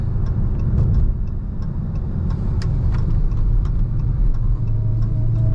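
A Dodge Charger Hellcat Widebody Jailbreak is driven, its engine a loud, heavy, steady low rumble from inside the cabin, with faint ticking clicks over the drone.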